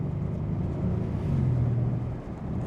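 A 2025 Bentley Continental GTC Speed exhaust on a drive, a low steady rumble that swells briefly and then eases, heard close with wind noise and no talking.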